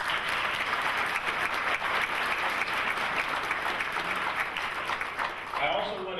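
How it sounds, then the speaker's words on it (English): Steady applause from the audience at a Navy medical laboratory technician graduation ceremony, a continuous even wash of clapping that fades slightly near the end. "Give them a round of applause."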